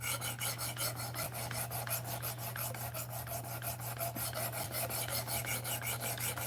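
A knife blade is worked over a whetstone in steady, rhythmic back-and-forth rasping strokes, faint and close, with a low hum underneath and no talk.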